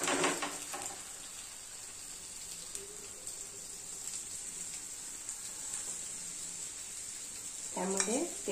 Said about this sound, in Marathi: आपण आता हे दुसरं त्यावर तव्यावर घालूया.